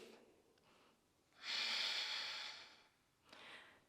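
Deep breathing during a vinyasa yoga session, a faint inhale followed by one long, strong airy exhale and the start of another breath, close and quiet with no talk.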